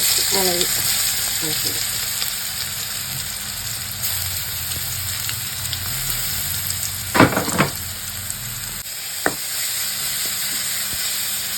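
Mustard seeds and curry leaves sizzle in hot coconut oil in a pan, a steady close frying hiss throughout with a few sharp crackles and pops in the middle.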